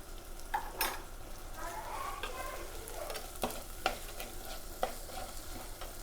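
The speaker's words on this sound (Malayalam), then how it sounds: "നമുക്കിതിൽ പച്ചമുളക് ഇട്ട് കൊടുക്കാം. ഇനി കുറച്ച് ഉപ്പിട്ട് കൊടുക്കാം." Green chilies and salt stirred into a pan of sizzling food, with a steady fry under repeated clinks and scrapes of a spoon, close and moderately loud, no talking.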